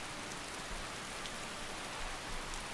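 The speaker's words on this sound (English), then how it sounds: "It's chucking it down with rain" Heavy rain pours down in Skyrim, a steady close wash of drops drumming on surfaces, continuous and unbroken with no voices.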